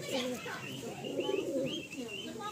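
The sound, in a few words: female Kalanka flying pigeon cooing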